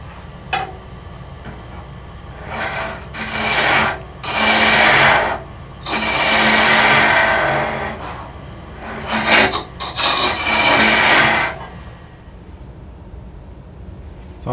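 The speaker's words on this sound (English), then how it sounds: "I'm going to work on hollowing out the inside just a little bit, even everything out using this carbide tool" Carbide tool hollowing the inside of a wooden acorn box on a lathe, heard as a series of loud, broad scraping bursts of varying length, several seconds each, separated by short pauses and a steady low motor hum.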